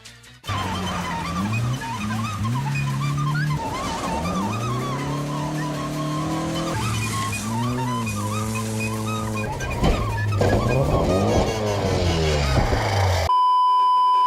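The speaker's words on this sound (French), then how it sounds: "Ça a un son très particulier, hein, c'est un 4 cylindres en ligne." A Volvo Amazon with a tuned inline four-cylinder engine, rear-wheel drive and about 180 horsepower, on a rally stage. The engine is loud and close, its revs climbing and falling steadily throughout, with tire squeal mixed in.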